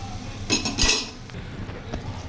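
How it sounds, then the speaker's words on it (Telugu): A utensil stirs ginger garlic paste into mushroom brown basmati rice pulao in a pan, giving a couple of brief scraping clinks up close and then softer rustling, with no talking. "మంచిగా మిక్స్ చేసుకోవాలి. జింజర్ గార్లిక్ పేస్ట్ కలిసేటట్టు."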